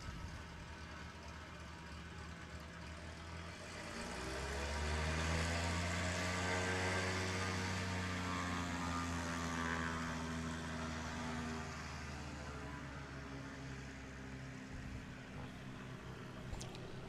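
A 1969 Cessna 182 Skylane engine drones steadily at a STOL competition in Pinedale, Wyoming, swelling louder then holding a sustained tonal hum with shifting harmonics, heard at moderate distance without talk.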